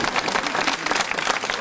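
Dense crowd applause at an outdoor medieval festival street-theatre show, steady, busy clapping from many hands throughout, fairly close and filling the whole moment.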